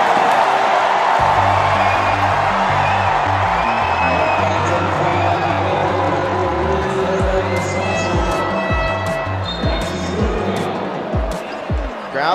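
A crowd at an MPBL basketball game between Sarangani and Marikina cheers in a large arena, a steady roar running under an excited commentator. A rhythmic drum beat pounds along, and squeaks and bounces come from the court.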